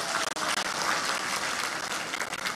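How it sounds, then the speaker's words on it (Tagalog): A church congregation applauds in a burst of dense, continuous clapping that fills the short moment with no talk over it. "Palakpak mo mga kaigsuonan."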